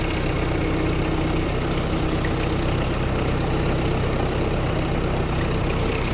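A tractor engine idles steadily, a continuous low mechanical rumble with a fine rapid knock, loud and close, with no talking.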